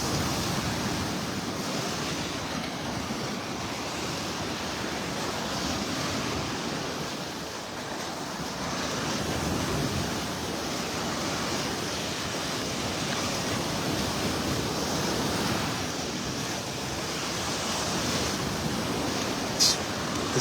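Ocean waves breaking on a beach with hard sand, a continuous roaring surf that swells and recedes, mixed with wind rushing across the microphone, steady and fairly loud throughout.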